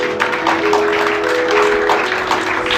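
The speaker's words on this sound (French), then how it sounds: "acclamez pour eux." Church congregation applauding at a Sunday service, a steady dense clapping texture held throughout at a fairly loud level, with a sustained tone running beneath.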